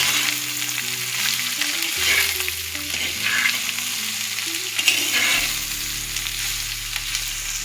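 Cabbage with homemade turmeric sizzles loudly in a pan, stirred back and forth with soft scraping strokes over a constant close frying hiss; no talk.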